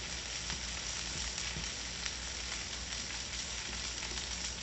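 Eggs sizzle and crackle steadily in a hot pan while being stirred for a pork roll, egg and cheese breakfast, a dense continuous frying hiss close by with no one speaking.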